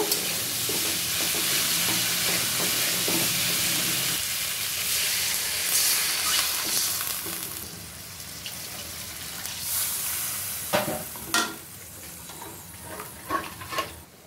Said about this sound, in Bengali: আলুটাও সুন্দর করে কষানো হয়ে গেল।